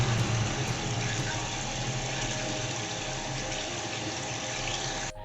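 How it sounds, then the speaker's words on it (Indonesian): Sanyo electric water pump drawing water from a bore well, a steady, loud rushing flow with a constant motor drone that holds evenly throughout and cuts off at the very end. "di sini kita akan coba hidupkan air sanyonya ya untuk menarik air dari sumur"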